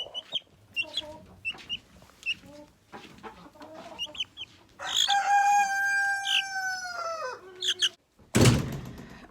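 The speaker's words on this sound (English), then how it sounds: "Now I'm letting my chickens out." Homestead chickens cluck and chatter in short bursts as they are let out in the morning, then a rooster crows one long, loud call nearby, followed by more clucks and a sudden loud clatter at the end.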